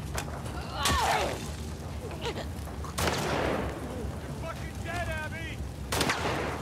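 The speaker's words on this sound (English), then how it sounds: "Somebody else shooting at us?" Gunfire in The Last of Us Part II: several sharp, loud shots cracking at roughly one-, three- and six-second marks, with scattered game sounds between and a rising tonal chirp near the end.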